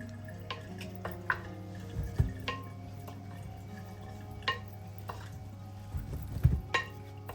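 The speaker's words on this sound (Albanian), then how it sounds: "Do vazhdojmë ta përziejmë mirë." Boiled potatoes being mixed with a prepared mixture in a bowl: soft, steady stirring with a few sharp clinks and taps against the dish over a low constant hum, no voices.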